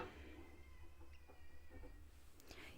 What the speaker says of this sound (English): guys hear Spooky meowing outside the door